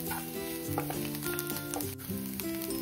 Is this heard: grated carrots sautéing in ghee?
yes